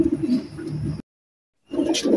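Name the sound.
teddy pigeons cooing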